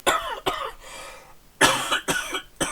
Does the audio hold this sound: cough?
yes